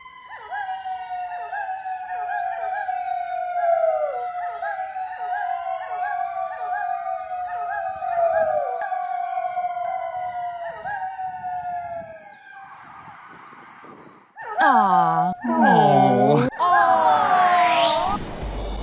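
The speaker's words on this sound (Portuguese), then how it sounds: "esses filhotes de coiote foram flagrados uivando junto com as sirenes de polícia" Coyote pups yip and howl over a steady wailing police siren in a Chicago cemetery, rising in pitch and growing louder toward the end.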